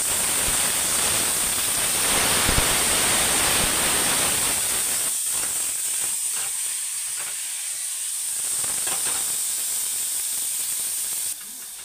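Cauliflower leaf paste added to a pan of fried garlic, sizzling in a loud steady hiss that softens partway through and then drops off abruptly near the end.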